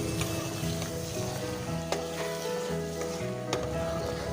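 Chicken pieces sizzle steadily in a hot pan for chicken kosha while being stirred, a continuous crackling fry with occasional scraping clinks of the spoon against the metal.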